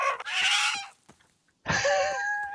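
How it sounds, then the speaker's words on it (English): Chickens in the survival game Rising World give two short clucking calls separated by a brief gap, close and fairly loud. "Hello, chickens."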